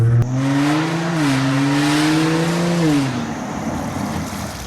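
A car brakes hard to a stop on freshly installed brakes, its engine tone sliding down over about three seconds before settling into a rough, close idle, with no talking.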